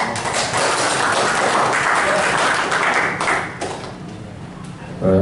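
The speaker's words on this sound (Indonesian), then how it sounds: "tepuk tangan Jimin." Dense, rapid clapping from a crowd at a technical meeting for a Pamekasan regency bull race fills most of the clip, with a busy, noisy texture that fades slightly toward the end.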